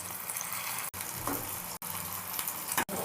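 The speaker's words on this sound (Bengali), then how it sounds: "এভাবে আমি ভেজে নিচ্ছি সব" Leftover rice fritters fry in hot oil in a pan, a dense, steady close sizzle that runs throughout, broken only by a few abrupt brief cuts.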